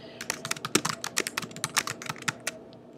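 Rapid, uneven keystrokes on a computer keyboard as an email signature is typed into Gmail settings, close and crisp clicks in quick bursts with no talking.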